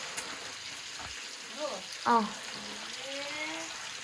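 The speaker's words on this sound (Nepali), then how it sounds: "मासु पकाइरहेको मेरो बर्थडेको लागि हो" Chicken meat fries for a birthday meal, a faint, steady sizzling hiss running throughout, with voices and a few brief tonal sounds rising over it.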